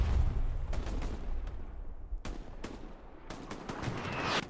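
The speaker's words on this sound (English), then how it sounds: "Artillery is now going to demolish most of that garrison spawner built here." Artillery and gunfire in the World War II shooter Hell Let Loose during a tournament match, a string of sharp booming impacts and shots at mid distance, separated by brief gaps, with no talk.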